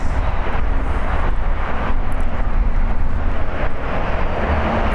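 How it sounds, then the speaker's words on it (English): An American Airlines Airbus A321neo lands at LAX, a steady, loud, broadband jet roar holding close and constant throughout, with no voices. "Landing on the north is American Airlines, flight 1275, coming in from Washington, a 6-hour flight. It's an Airbus A321neo."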